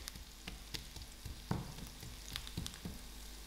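Garlic ground by hand into ground spices while chilies cook for pea-stuffed parathas: irregular knocks and scrapes land about every half second over a steady background sizzle, with no talking.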